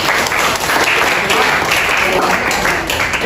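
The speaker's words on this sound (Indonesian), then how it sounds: "tepuk tangan" Classroom applause from a group of students during a chemistry lesson, a dense, steady wash of clapping held at an even level for a few seconds, with a faint voice mixed in.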